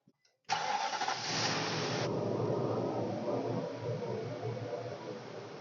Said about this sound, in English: So at this moment here, the vehicle should start right up.